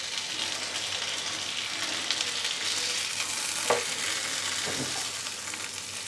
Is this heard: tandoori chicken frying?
yes